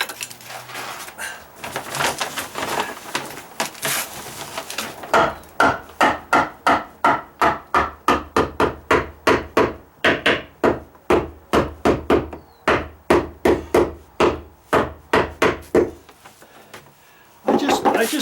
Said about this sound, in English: start banging on it with your hammer